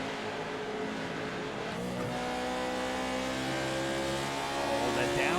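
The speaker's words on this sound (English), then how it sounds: "Oh, the downshift." A race truck's engine downshifting during a stock-car truck race, with blipping revs stepping through gears amid a loud field of roaring engines, while a commentator talks over it.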